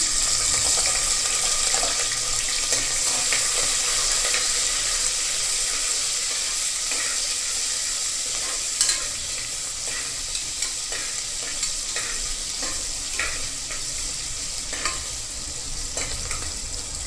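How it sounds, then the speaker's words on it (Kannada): Loud, continuous crackling sizzle of onions frying in hot oil for tempering, with scattered pops and scraping stirs throughout. "ಎಣ್ಣೆ ಬಿಸಿಯಾಗಿದೆ. ಇವಾಗ ಇದಕ್ಕೆ ನಾನು ಈರುಳ್ಳಿ ಏನು ತೆಗೆದಿಟ್ಟಿದ್ನ ಒಗ್ಗರಣೆಗೆ ಅಂತ ಹೇಳ್ಬಿಟ್ಟು ಈರುಳ್ಳಿ ಹಾಕ್ತಾಯಿದ್ದೀನಿ"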